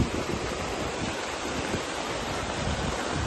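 Floodwater rushes past the village of Dehen in a steady, broadband roar with no break, loud and close, with no voices.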